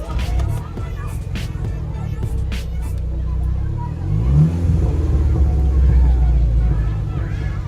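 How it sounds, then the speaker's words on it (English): Audi TT engine with its resonator removed revs loudly and close, a rising growl around the middle with rough low rumble and crackles suggesting backfire; voices murmur faintly underneath. "we just finished taking out the resonator, so I'm going to start the car with the windows down so you guys can hear"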